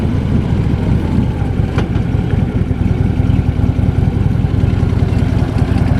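A 2015 Harley-Davidson Street Glide Standard motorcycle engine runs steadily with a loud, continuous low rumble throughout, no voices over it.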